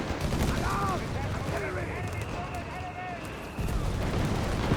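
Machine gun and flak fire rattle in rapid, dense bursts during a Company of Heroes 3 battle, mixed with booming explosions and other game sounds under a commentator's talk.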